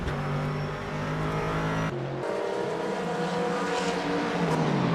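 Corvette GT3 race cars roar through a sim racing game at Laguna Seca. Engine notes rise and fall through gear changes, with an abrupt cut as one car shifts and another passes close by.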